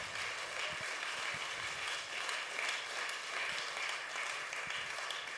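A church congregation claps and applauds steadily throughout, a dense, even wash of many hands in a large room with no pauses.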